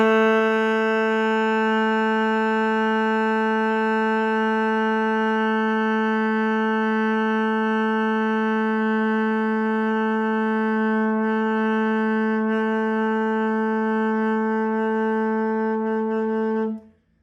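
A single saxophone tone blown with tight cheeks and top teeth resting on the mouthpiece, held steady and loud with rich, even overtones for about seventeen seconds before stopping abruptly.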